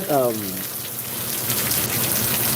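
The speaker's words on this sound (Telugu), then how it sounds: "వర్షం" Steady rain falling on surfaces during a thunderstorm, a dense continuous hiss that holds at an even level throughout, with a brief voice at the very start.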